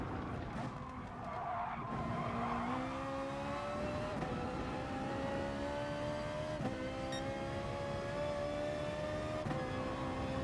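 A Ferrari race car in the racing game GT Sport drives laps, its engine droning steadily and climbing in pitch through the gears, with faint tire squeal and no voices, loud and continuous.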